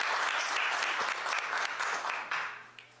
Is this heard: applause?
yes